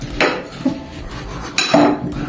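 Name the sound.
fork pushed into an onion for slicing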